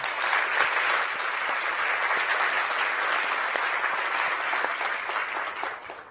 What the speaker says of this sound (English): Let's give one more round of applause for that amazing performance